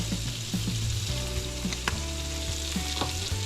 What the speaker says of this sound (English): we're going to add just a little bit of the garlic paste. Toss around.